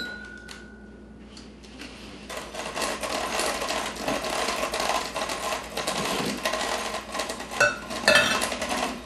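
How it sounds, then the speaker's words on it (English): Flour, salt and baking powder are sifted together, a rapid rattling, clicking patter of a sifter running steadily for several seconds after a quiet start, close and moderately loud, with no talk. "I'm just going to kind of sift that together."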